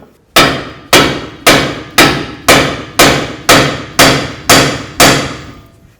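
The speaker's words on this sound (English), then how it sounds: "Let's give it a couple loving bonks." Nine evenly spaced hammer blows ring out, loud and close, each a sharp metallic strike with a short decaying ring, knocking on the front driver's side axle assembly of a 2006-2012 Ford Fusion.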